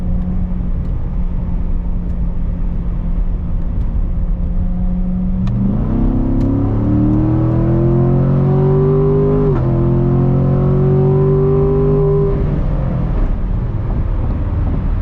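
A Chevy Corvette C7 Grand Sport engine revs up loudly and close, climbing in pitch, briefly dropping at a gear change, then rising again before easing off, with no talking.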